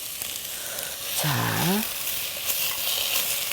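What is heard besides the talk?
stir-frying radish in a pan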